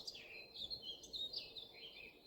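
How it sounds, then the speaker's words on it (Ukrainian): Small birds chirp and twitter continuously at a distance at dawn, around 4 a.m. in Poland, a soft, quiet chorus over faint background noise. "Тихо-тихо навкруги ще, тільки пташки співають."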